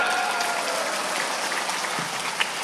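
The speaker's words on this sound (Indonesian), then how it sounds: "Tepuk tangan." Audience clapping at a lively Islamic sermon in Kalibaru, a dense, steady wash of applause sustained throughout with no talk over it.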